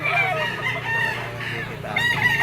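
A dark-legged Gilmore bloodline stag rooster crows loud and close, its strained call running over other clucking fowl in a farmyard setting.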